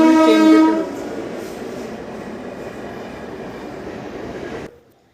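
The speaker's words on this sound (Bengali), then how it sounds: "বাড়ির পেছন সাইড দিয়ে ট্রেন যাচ্ছিলো, তো সেজন্য ট্রেনের আওয়াজটা তো আমরা পেয়ে গিয়েছিলাম।" A train rumbles past behind a house, loud and close, with a short horn-like tone at the start, then a steady rolling roar that cuts off abruptly.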